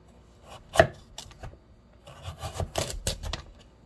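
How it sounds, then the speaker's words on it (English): A kitchen knife chops through food on a cutting board, one sharp knock followed by a run of quick, close, rhythmic slicing taps. "Going down with the point of the knife first to get that good, consistent, even slice"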